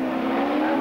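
A race car engine holds a loud, steady, buzzing drone for a brief moment during the 1997 Shelsley Walsh hill climb, an FIA Challenge event.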